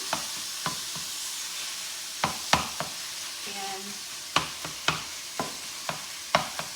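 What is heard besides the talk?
ground meat sizzling, chopped in pan with a mix-and-chop tool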